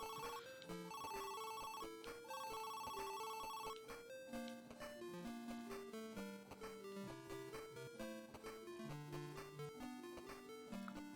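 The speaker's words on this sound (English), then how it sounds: "sound effect does sound like a phone" Phone-like dialogue blips from the Game Gear Shinobi game sound repeatedly in quick bursts, over game music with a bass line and melody, heard clearly without talk.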